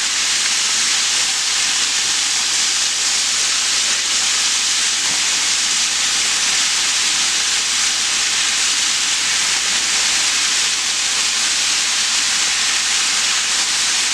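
Catfish and shrimp deep-fry in hot oil with a loud, dense, unbroken hiss and sizzle that stays constant from start to finish, with no voices.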